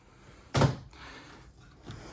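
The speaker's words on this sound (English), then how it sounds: "And then more drawers." A drawer in a 2025 Brinkley Model Z 3515 fifth wheel RV slides with a sharp thunk near the start, followed by quieter rolling and a softer bump as it shuts.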